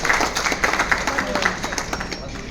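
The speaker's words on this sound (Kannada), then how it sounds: "ಜೋರಾಗಿ ಅವರು 3 ಜನಕ್ಕೂ ಚಪ್ಪಾಳೆ ಕೊಟ್ಟರು" Audience clapping for three honoured swamijis at a science summit fellowship event in Doddaballapur, a dense, steady patter of many hands filling the hall without pause.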